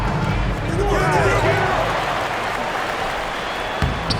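Basketball bounces and a murmuring crowd in the NBA 2K video game during a 1997-98 Chicago Bulls versus Sacramento Kings matchup, with a commentator talking over the game.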